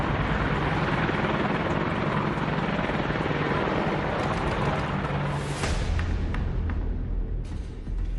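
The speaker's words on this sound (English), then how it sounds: "a pair of formidably armed Apache helicopters lifts off" Loud, continuous rotor thumping and engine roar from a pair of Apache attack helicopters lifting off, close by and sustained throughout, with the pitch shifting slightly as the aircraft move.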